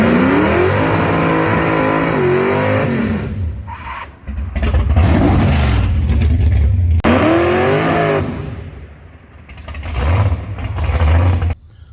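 A drag race car sits in a driveway for testing, its engine revving hard in loud repeated bursts that climb and fall, with brief drops to idle between pulls and no voices.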